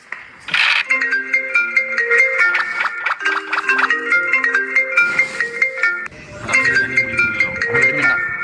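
A melodic phone ringtone chimes for an incoming call, a bright repeating tune that plays for several seconds, pauses briefly, then starts again, with voices heard around it.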